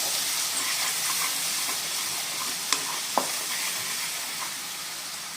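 Spice paste for a hilsa and eggplant curry sautéing in a pan, a constant loud hiss of frying with two sharp utensil taps in the middle, no voices.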